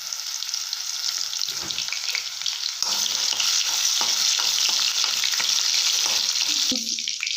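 Crushed garlic fries in hot oil with cumin seeds, a loud continuous sizzle and crackle close up, broken by scraping stirs and a clink near the end.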